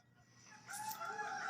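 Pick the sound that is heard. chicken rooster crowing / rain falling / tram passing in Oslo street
chicken rooster crowing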